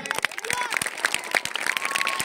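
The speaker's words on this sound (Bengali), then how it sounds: "সবাই মিলে জোরে একবার হাতের তালি" Spectators and players at a village cricket tournament final clapping together, a dense burst of close applause with sharp individual claps over a busy crowd wash.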